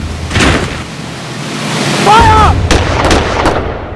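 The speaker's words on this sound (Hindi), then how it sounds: "firing position" A police quick response team firing squad lets off gunfire in several loud, sharp, booming shots, one early and a close cluster near the end, over rushing outdoor noise.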